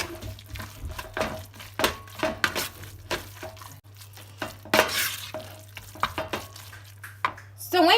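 Ricotta, spinach and parmigiano being mixed in a bowl: close, uneven wet stirring and squelching strokes against the bowl, with a brief faint voice near the end.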